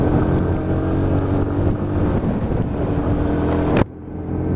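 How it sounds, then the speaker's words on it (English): A Lexmoto ZSB motorcycle with a 5-speed gearbox pulls steadily through its gears on an open road, a loud, continuous engine drone with wind rush that cuts off sharply near the end. "And just working through the gears nice and slowly."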